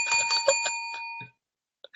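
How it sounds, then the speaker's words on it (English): A cussing-bell sound effect rings out in a bright, sustained metallic tone that holds for about a second before cutting off, followed by a short faint blip near the end. "we need a Dave's cussing again bell"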